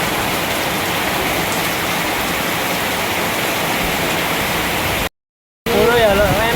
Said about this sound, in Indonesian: Hujan betul